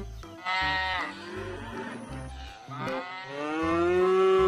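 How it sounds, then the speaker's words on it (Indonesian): A cow mooing from a toy farm animal truck, several drawn-out electronic moos in a row, loud and close, with no talking over them. "di dalamnya ini ternyata ada anak sapi"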